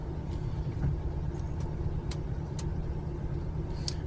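Steady car engine hum from inside the cabin as the driver eases off the accelerator while eco-driving below 30 km/h, a continuous low drone with faint higher ticks, no talking.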